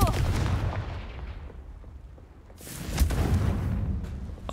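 A Confringo fire spell goes off in the Hogwarts Legacy video game as a deep, booming blast that rumbles and fades. A second explosive burst follows about three seconds later. No one speaks.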